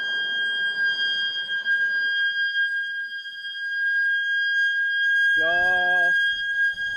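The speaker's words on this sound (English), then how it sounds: "It's so cool to hear that siren" A warning siren at a SpaceX test site during a Starship SN8 Raptor engine preburner test holds one steady, piercing tone with bright harmonics throughout, with a short voice-like burst near the end.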